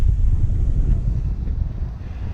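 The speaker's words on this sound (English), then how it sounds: "the wind turned quite hard against us" Strong wind buffets a sailing boat tacking across a fjord against the wind, a loud low rumbling roar of gusts on the microphone with a faint wash of water beneath and no voices.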